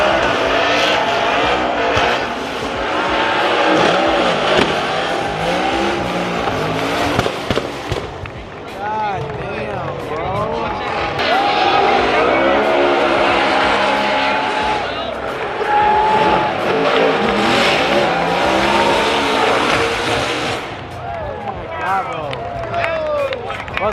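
Race cars at a track, among them a Nissan 370Z fitted with a GT-R engine, spin out with loud roaring, revving engines and tire noise throughout, while people talk excitedly over the action.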